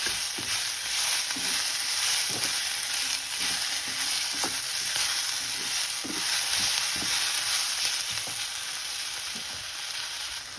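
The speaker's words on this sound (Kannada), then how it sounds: "ಟೊಮೆಟೊ ಸಹ ಮೆತ್ತಗಾಗೋ ತನಕ ಹುರ್ಕೋಬೇಕು." Tomatoes and onion frying in a pan for chicken sambar, giving a steady, close hiss of sizzling oil with light scraping stirs throughout and no voices.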